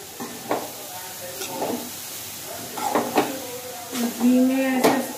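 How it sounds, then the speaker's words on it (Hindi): Grated carrot is stirred and roasted in hot ghee in a pan for gajar ka halwa, with soft sizzling and intermittent scraping stirs up close; someone talks over the cooking. "घी में ऐसा भून लेंगे इसको।"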